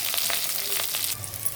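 Curry leaves crackle in hot oil with a tempering of mustard seeds, cumin, chana dal and green chilli in a kadai for poha upma, giving a brief, close, steady sizzle with a few louder pops.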